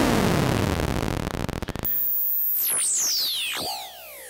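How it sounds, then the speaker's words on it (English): Harsh synthesized noise straight from a Galilean Moons synthesizer module's XOR noise output starts as dense static, then turns into bright swooping tones that sweep up and down, loud and continuous with no voice. "we also have the sound straight out of the XOR noise output"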